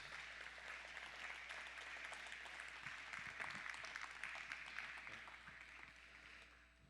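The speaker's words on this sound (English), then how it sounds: "please give another round of applause to all the 6 winners of Caring Space Challenge" Audience applause at a space challenge demo day honoring six winners, a sustained wash of many hands clapping, fairly distant and soft, tapering off toward the end.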